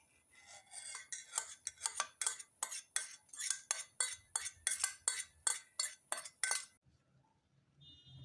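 Spoon clinking against a metal pot while buttermilk kuzhambu is stirred, about fifteen quick, evenly spaced metallic strikes, loud and close, with no talk, then stopping.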